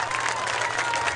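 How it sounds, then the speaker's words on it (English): Dense, steady applause from a crowd at a Lutheran Cougars versus St. Mary's Dragons football ceremony, filling the whole short moment with even, close clapping. "please join me in one final round of applause for these tremendous accomplishments"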